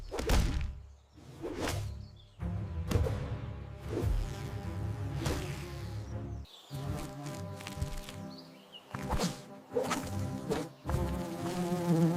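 An animated giant fly buzzes and drones as it attacks leafcutter ants in a mid-air fight, its harmonic whine rising and falling between sharp whooshes and thwacks of impact, close and loud, with no voices.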